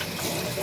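Hot water running from a kitchen tap while spice jars are rinsed in the sink, a brief steady rushing splash that is close and loud.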